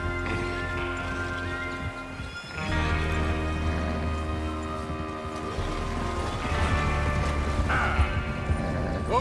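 Horses neighing and moving with clip-clop hooves in the Red Dead Redemption video game, set in the Old West, with a steady bed of game sound and several whinnies toward the end.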